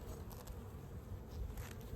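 Soft buzzing of honeybees at a hive with a hornet nearby, a faint, continuous insect hum with slight flutters.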